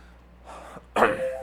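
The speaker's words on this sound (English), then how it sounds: "I cough a little bit in the morning" A single short throat burst, like a morning cough, rises sharply and close after a quieter breathy lead-in, standing alone over a low steady hum.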